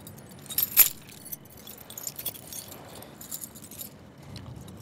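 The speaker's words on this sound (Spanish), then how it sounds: "Neto, dale las llaves" Keys jangle sharply once near the start as a set of keys is handed over, followed by faint scattered clinks and rustling in a quiet room.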